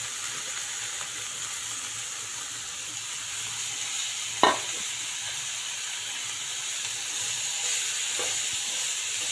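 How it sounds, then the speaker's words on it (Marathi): Finely chopped cabbage frying in a pan for cabbage masala, a steady hissing sizzle throughout with one sharp utensil knock midway and a fainter tap near the end, no speech. "आता यातच मी हा बारीक चिरलेला कोबी यात घालून घेते"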